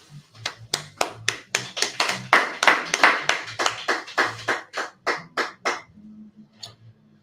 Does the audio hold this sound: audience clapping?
yes